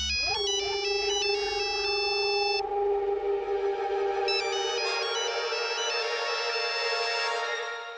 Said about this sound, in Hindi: अभी फोन बज रहा है, तुम्हारे हाथ में है, उठाओ।